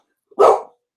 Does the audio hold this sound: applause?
no